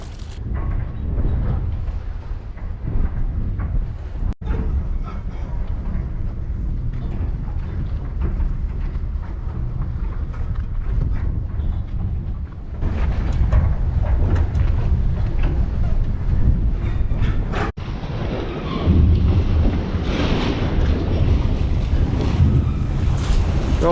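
Cold winter wind buffeting the microphone at sea during squid fishing, a loud continuous rumbling roar with gusty surges and water sounds underneath, no talking.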